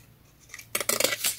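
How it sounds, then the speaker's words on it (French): Scissors snipping through a paper card for a scrapbooking project, a quiet lead-in followed by a quick run of crisp, close cuts with sharp rustling blade strokes. "je vais couper avec ce ciseau là"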